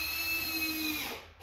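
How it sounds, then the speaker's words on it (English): A power drill drives screws into 2x4 lumber for a helix sub-roadbed build, giving a steady, close whine for about a second before it winds down and stops. "I'm now going to put 2 screws into the 2x4s on this end"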